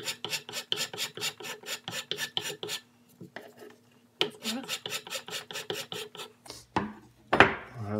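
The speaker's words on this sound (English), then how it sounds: "I will finish shaping the breech area so it's flush with the barrel" A file rasps over the wooden stock at the breech of a muzzleloader, shaping it flush with the barrel, in quick rhythmic bursts of strokes with a brief pause midway and a few knocks near the end.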